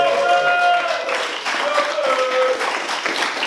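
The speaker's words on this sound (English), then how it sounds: "But a round of applause for Rob" Audience applause for poet Rob Stevenson at a poetry event, a steady wash of clapping from a crowd that holds through the whole stretch, with some voices mixed in.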